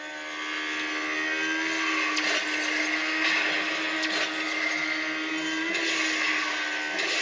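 Racing car engine in the mobile game Asphalt Legends played with a phone controller: a steady, loud synthetic engine whine with layered revving tones, held continuously for several seconds with brief surges, no talking.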